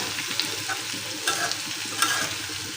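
Vegetable bhaji stir-fries in a pan, giving a steady close sizzle broken by light spatula scrapes and taps.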